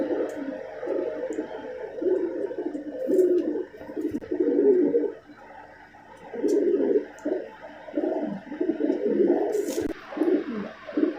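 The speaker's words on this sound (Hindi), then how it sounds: "कबूतरी" Low, throaty cooing from a Malwai pigeon repeats in soft rolling phrases with brief pauses, steady and fairly close, with no talking.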